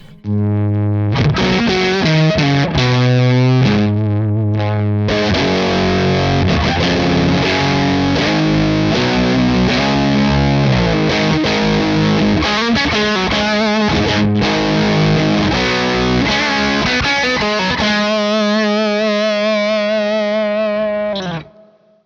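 Electric guitar driven through a Crazy Tube Circuits Venus tube overdrive pedal with the low band raised, thick sustained chords and melodic lines played continuously for over twenty seconds, loud and saturated.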